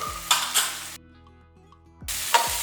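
Tomato rice masala with salt and turmeric sautéing in a pan, a soft sizzle with stirring scrapes, pausing briefly before resuming.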